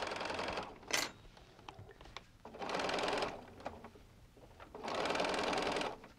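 A home sewing machine stitches the seam of a lined Christmas stocking cut with a Santa stocking die, running in two long steady whirring bursts separated by pauses filled with small clicks and handling of the fabric.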